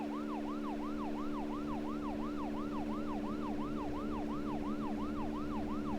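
Police-style car siren from the Deadly Premonition video game wails in a fast, regular up-and-down cycle, steady and unbroken over a low engine drone, with no talking.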